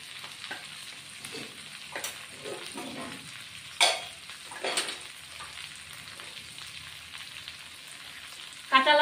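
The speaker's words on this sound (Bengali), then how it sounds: "এখন আমি কষিয়ে নিব, আলুগুলি মশলা দিয়ে কষিয়ে নিব" Potatoes fried and stirred with spices, Kashmiri chilli powder and green chilli paste for a Bengali egg curry: a low crackling sizzle broken by several sharp scraping stirs of a spatula, close and alone.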